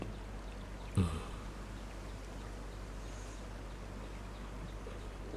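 Steady, soft rushing of stream water in the survival video game SCUM, with a single dull thump near the start and no talking.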